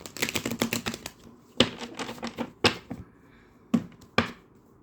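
A tarot card deck is shuffled up close, with quick flurries of crisp card snaps followed by a few separate sharp riffles and pauses between them.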